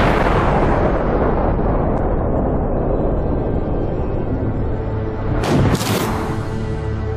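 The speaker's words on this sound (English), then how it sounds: "It's astonishing to think that Archimedes could have invented such an apparently modern cannon" A reconstructed Archimedes steam cannon fires with a loud roaring blast that tails into a long rumbling wash, then a sharp high hiss of steam bursts out near the end.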